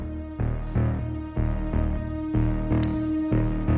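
Suspenseful cinematic drum hits in a Jaws-style dun dun pattern, deep booming strikes repeating at a steady pace over a sustained low tonal bed, loud and close with no talking.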